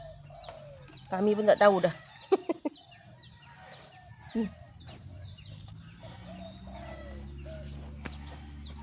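Chickens from a large backyard flock cluck and call in bursts, some close and some farther off, while people talk over them outdoors.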